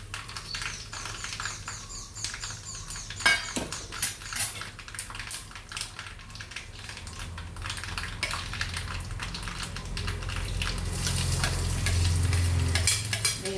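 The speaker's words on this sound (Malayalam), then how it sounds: "കടുക് പൊട്ടി വരുമ്പോൾ നമുക്ക് വറ്റൽമുളക് ഇട്ട് കൊടുക്കാം." Mustard seeds and dried red chillies frying in hot oil for a dried cassava and fish curry dish, with sharp popping crackles and a steady sizzle that swells louder toward the end, stirring noises mixed in.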